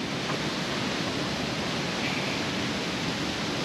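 Steady broadband rush of a forest waterfall, dense and unbroken throughout, with no voices.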